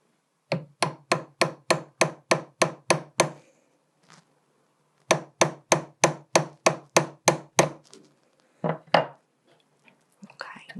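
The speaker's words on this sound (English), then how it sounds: "I'm just going to use my centre punch, and then I'm going to start tapping the top of that" A centre punch is tapped sharply to flare a tube rivet on a domed metal locket: a quick, even run of about ten close metallic taps, a pause, then a second similar run followed by a few scattered knocks.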